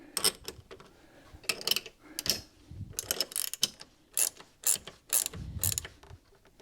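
Ratchet wrench tightening bench mount bolts for a Frankford Arsenal X-10 press, quick bursts of rapid clicking in irregular strokes with brief pauses, close and fairly quiet.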